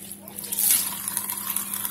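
Water runs and splashes into a porcelain stoneware sink as it is rinsed, a steady close hiss of flow with a brief louder surge near the start, heard alone without talk.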